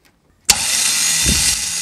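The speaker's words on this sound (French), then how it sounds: "j'ai juste à alimenter ici à l'aide d'un fil qui va de la batterie plus 12 volts à ce fil-là et le démarreur doit fonctionner" A motorcycle starter motor, fed directly from the 12-volt battery through a jumper wire, kicks in abruptly after a short silence and then whirs loudly and steadily without a break.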